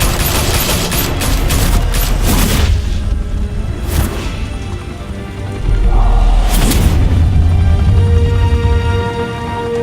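Heavy gunfire in the video game Batman: The Telltale Series, rapid automatic bursts and sharp shots crackling in dense clusters, with booming impacts and whooshes between loud volleys.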